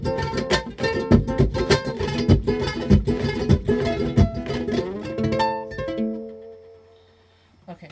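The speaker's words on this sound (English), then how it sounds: "And then maybe I want to add a double tambor" Ukulele played with a double tambour strum, giving quick percussive chord hits in a steady, driving rhythm, close and clear, before a final chord rings out and fades to silence.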